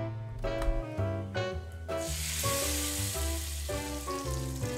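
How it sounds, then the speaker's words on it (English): Mustard seeds and curry leaves sizzle in a hot tadka, giving a loud, continuous frying hiss that swells as they hit the oil, with crackling pops and faint stirring over a soft musical background. "To this, I'll add some tadka of mustard seeds and curry leaves."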